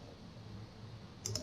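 Two quick, faint mouse clicks land close together at the very end, against a quiet background, as someone works in Fusion 360 CAD software.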